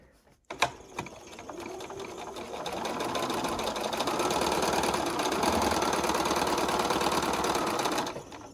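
A sewing machine runs steadily through quilt seams, a loud continuous rattling whir that starts with a brief clack and holds for over seven seconds before stopping.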